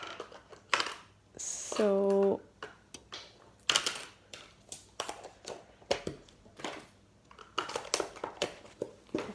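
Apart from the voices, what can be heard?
coins rattling in a container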